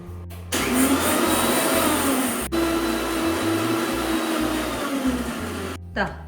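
A kitchen mixer grinder grinding coconut whirs loudly and continuously for several seconds, a steady high motor whine that cuts off abruptly at the end.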